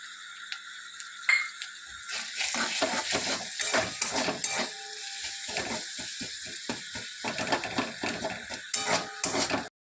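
Chopped tomatoes tipped into spice paste frying in oil in a pan, bringing a steady close sizzle with scraping, stirring clinks of a utensil against the metal pan throughout.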